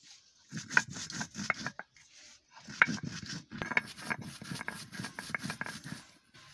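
Spices and coriander-cumin are ground into a paste by hand for chicken pakoda, heard as bursts of rhythmic rubbing and scraping strokes with short pauses between them, close and fairly quiet.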